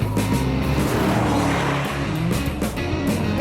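A Chevrolet Camaro SS is driven hard into a corner, its engine roaring loud and close with shifting revs and a hint of tire noise, continuous and without talk.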